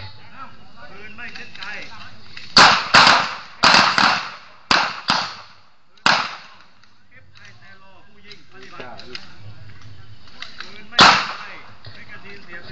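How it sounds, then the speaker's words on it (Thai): A Glock 19 pistol fires during a test shoot: a quick string of loud, sharp shots comes in close pairs and singles, with one more shot after a pause, while a person talks in between. "ยิงจบเคลียร์ปืนเก็บปืนก็ซอง"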